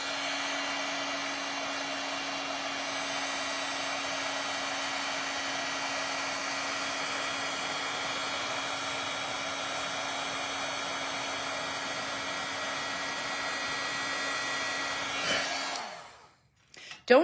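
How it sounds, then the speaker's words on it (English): A heat gun blows for heat embossing a wine bottle tag, a loud steady whining hum that runs unbroken before it cuts off near the end. "let's get the heat gun. So bear with me for a moment while I heat this up"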